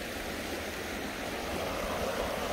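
A creek at night flows in a steady, even rush of water with no breaks, close and moderately quiet.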